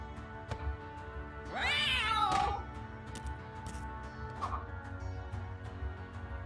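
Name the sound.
cat meowing in a video game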